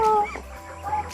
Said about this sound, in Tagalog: This is our native chickens here.